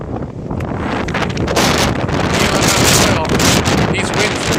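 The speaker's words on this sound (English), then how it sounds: "I just got a huge gust right now in Quebec. Almost blew me over." Strong gusts of a 110–120 km/h windstorm roar across the microphone on Mount Royal in Montreal, a loud, continuous buffeting rumble that swells and surges for several seconds with no pause.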